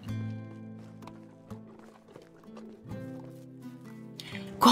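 Horse hooves clip-clopping in the medieval video game Medieval Dynasty, soft rhythmic steps mixed with game music and ambience, while a voice speaks over it.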